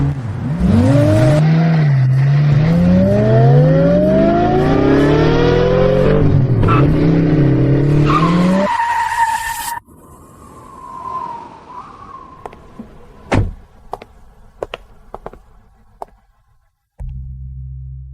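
A wedding procession car's engine revs hard and loud, its pitch sweeping up and down for several seconds before the car drives off, leaving quieter road noise with scattered sharp knocks.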